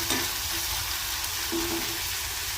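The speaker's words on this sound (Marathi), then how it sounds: "त्यामध्ये मी आता शिमला मिरची, हिरवे वाटाणे, कांदा, टोमॅटो सर्व एकत्र टाकून घेतलेला आहे। चांगल्यापैकी परतून घ्यायचं आहे।" Capsicum, green peas, onion and tomato sauté together in a pan for pasta, giving a steady, even sizzle with faint stirring scrapes and no talking.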